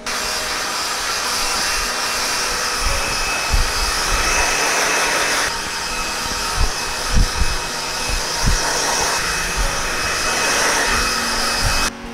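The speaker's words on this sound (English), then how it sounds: "we'll blow dry the hair, dry them" A hair dryer blows steadily and loudly on hair throughout, a continuous close whoosh with slight shifts in tone as it is moved and some faint low bumps underneath.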